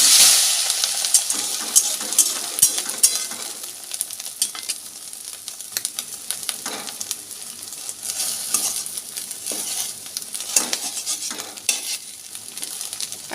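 An egg omelette fries in a pan, a hissing sizzle under repeated scraping and clinking spatula strokes that continue irregularly for several seconds.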